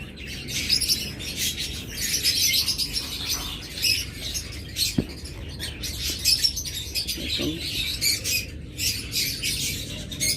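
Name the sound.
pet birds for sale, breeding pairs, calling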